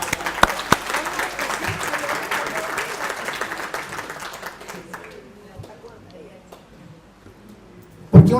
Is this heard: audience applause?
yes